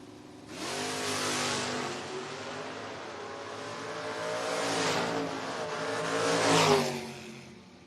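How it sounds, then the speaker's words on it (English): A 1976 Chevrolet Monza and a Dodge Dakota launch side by side in a footbrake bracket drag race. Engines rev hard and scream away down the strip, rising and fading with a second surge, and no one talks. "Burns, the 76 Monza, dials in 622, going to be giving chase to the Dodge Dakota of Caleb Klein"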